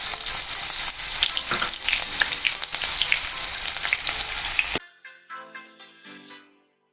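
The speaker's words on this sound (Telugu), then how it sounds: "ఆయిల్ వేడైన తర్వాత మనం ముందుగా కట్ చేసి పెట్టుకున్న ఆనియన్స్ వేసుకున్నామండి." Onions dropped into hot oil for a chicken liver fry sizzle loudly and steadily, then the sound cuts to near silence broken by a few faint crackles and pops before fading out.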